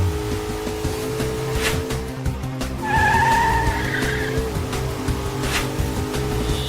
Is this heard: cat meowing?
no